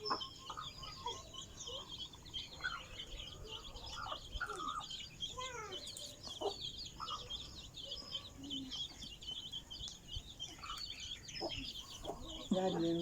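Hens and young chicks clucking and peeping close by, with a continuous mix of soft clucks and high chirps, some faint voices in the background.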